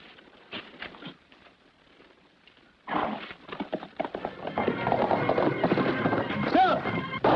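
Horses gallop in an old 1950 western TV episode: faint scattered hoofbeats at first, then a sudden, louder burst of rapid pounding hooves that builds and continues, with voices mixed in.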